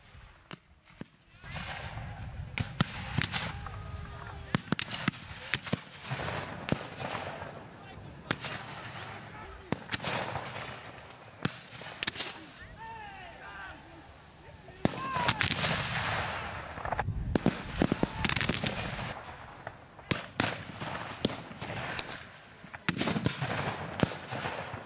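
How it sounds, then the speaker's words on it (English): Repeated booming blasts like cannon fire sound through the scene, mixed with horses whinnying and voices, the shots irregular and rumbling. "The shots of cannon fire can be heard from Margaret's and my room."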